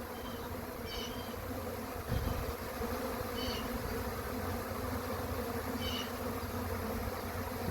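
A dense, constant buzz of a honeybee swarm fills the air near a tree, with a few faint high chirps rising briefly above it.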